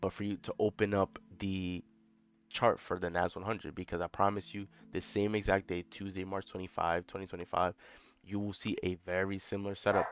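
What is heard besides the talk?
No everyday noises stand out.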